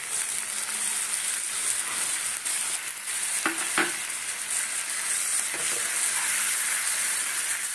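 Ground cashew, sesame and garam masala paste sizzles in a pan while cooking prawn malai curry, a steady loud frying hiss with a few clinks and scrapes of stirring near the middle.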